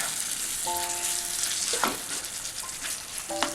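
A pan of squid cooking in a little water bubbles and sizzles steadily up close, with a couple of brief utensil clinks and stirring scrapes.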